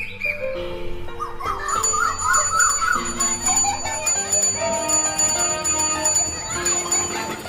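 Bicycle bells rung by girls cycling past in the morning: repeated bright metallic rings recur over several seconds amid other sustained tones, fairly loud and close.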